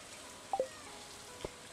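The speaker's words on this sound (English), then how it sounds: "Everybody's inside because it's raining today." Rain falling in the Stardew Valley video game, a steady soft hiss running the whole time with a few brief chiming game sounds on top.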